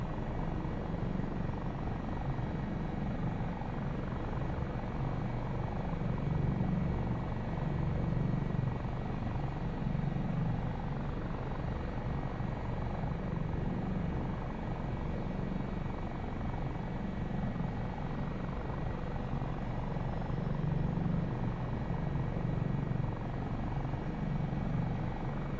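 A helicopter's rotor and engine in Microsoft Flight Simulator 2024 drone steadily and loudly throughout, a continuous low throb with a faint rhythmic pulse and no voices.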